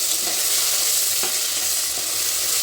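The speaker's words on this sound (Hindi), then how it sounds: "मसाले के साथ टमाटर भी फ्राई फ्राई फ्राई फ्राई" Tomatoes frying with masala spices in a pressure cooker for biryani, giving a steady close sizzle throughout with a couple of faint stirring scrapes and no talking.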